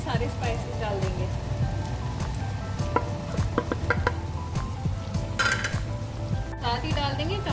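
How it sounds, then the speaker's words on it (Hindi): Potatoes frying in a pan with spices for aloo bhujia potato curry, a steady sizzle with scraping stir strokes and occasional clinks of the pan, close and continuous, with some talk over it. "आलूओं को 2 से 3 मिनट तक फ्राई करेंगे।"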